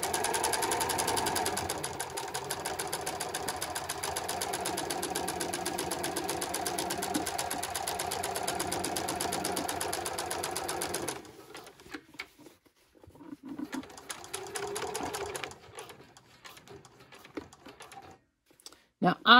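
A sewing machine topstitches a zip fly in a steady, close, continuous run that stops partway through, leaving quieter, irregular handling sounds.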